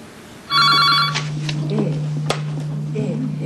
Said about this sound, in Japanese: 全国消費生活相談協会が6カ所で開設した電話は受付開始の10時から鳴り続け